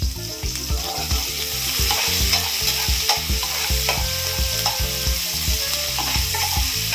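Garlic and ginger fry in hot oil in a pan for a fried rice dish, with a steady loud sizzle and repeated rhythmic scraping of a spoon stirring throughout, close up and with no talking.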